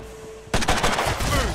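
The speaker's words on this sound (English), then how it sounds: "so we'll go ahead and shoot it." A single gunshot in the turn-based video game Mutant Year Zero: Road to Eden, a sudden loud blast with a rattling, echoing tail cutting through a quiet hum.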